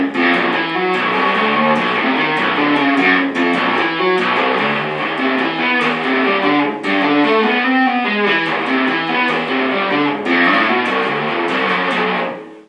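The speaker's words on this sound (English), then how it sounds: "mixed range tapping involves both the bass side and the treble side in kind of the same or similar ranges to give a very, intervallic and bouncy sound" Chapman Stick played with mixed range tapping through distortion, bass and treble sides overlapping in similar ranges for a bouncy, intervallic line; loud, dense and continuous, with no voices.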